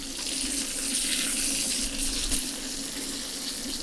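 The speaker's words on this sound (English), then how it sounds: "the sound of it in the pan is just incredible" Butter and mutton sizzle steadily in a pan, a close, continuous hiss and crackle that stays fairly even throughout with no talking.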